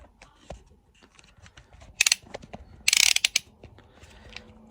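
Phone holder mechanism being locked and unlocked: scattered small plastic clicks, then two short bursts of rapid ratcheting clatter close up.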